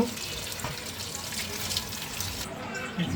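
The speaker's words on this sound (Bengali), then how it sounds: "এখন আমি এটা ছেঁকে নিব ঢেলে নিতেছি আমি সাথে সাথে ঠান্ডা পানি দিয়ে একটু" Boiled pasta is drained and rinsed under cold tap water, giving a steady, close, continuous rush of running water from start to finish with no voices.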